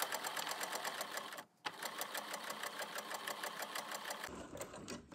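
A sewing machine stitches a straight seam in a steady, fast mechanical clatter, pausing briefly, then resuming, close and clear with no talking.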